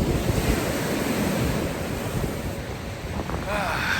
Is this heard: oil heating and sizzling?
no